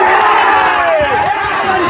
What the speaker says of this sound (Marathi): गर्दी तर अजून वाढू राहिली